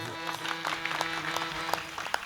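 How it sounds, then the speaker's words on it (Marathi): An audience at a kirtan devotional gathering claps together, a dense continuous patter of hands that stays fairly soft and distant throughout. "सर्वजण टाळ्या वाजवा."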